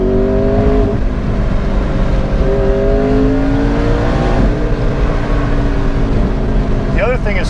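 A McLaren 650S supercar pulls hard at wide open throttle, its engine note climbing in rising harmonic sweeps, loud and close throughout with a brief voice near the end.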